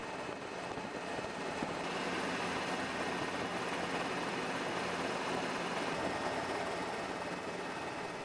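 Several KAI Surion helicopters fly in formation, their steady engine and rotor drone forming a faint, continuous roar that holds evenly from start to finish with no voices.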